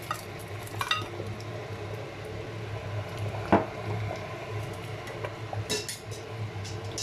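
Meat pieces, pomo, shaki and gizzard, go into a pot of fresh tomato stew with wet squishing and metal pot clatter, one sharp clank midway, over a steady low simmering hum.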